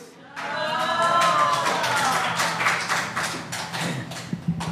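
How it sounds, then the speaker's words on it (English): Audience at a live comedy show bursts into applause, dense clapping swelling quickly and holding steady with a few louder claps, a whistle-like cheer rising over it near the start. "Another round of applause."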